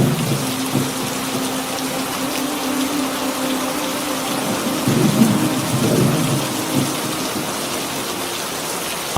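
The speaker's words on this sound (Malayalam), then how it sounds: "ശക്തമായ മഴയും കാറ്റുമുണ്ടായി." Heavy rain pours steadily alongside gusting wind, with deep rolling thunder swelling near the middle before easing back, no voices present.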